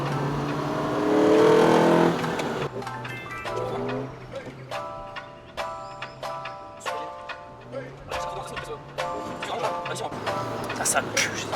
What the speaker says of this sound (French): Ah la Mustang.